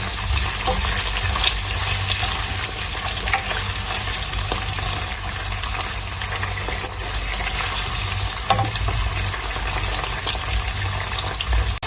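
Onions sizzle and fry steadily in a pan for aloo do pyaza, a continuous loud crackling hiss with occasional stirring, no voices.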